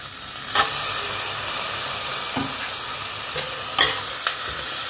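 Plain, unmarinated chicken sizzles as it fries in a pan, a steady close hiss broken by a few clinks and scrapes of stirring.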